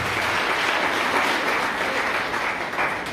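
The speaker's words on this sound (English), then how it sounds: "Let us clap our hands." A crowd clapping hands at an environmental awareness gathering in Uganda, a thick continuous round of applause at steady volume for a few seconds with no speech.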